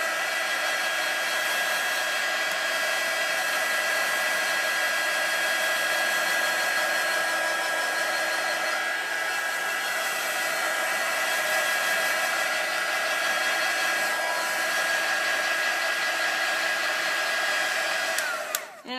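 A blow dryer runs steadily at close range to dry a watercolor pencil card, giving a constant loud whooshing hum with a faint whine that cuts off abruptly near the end, no talking.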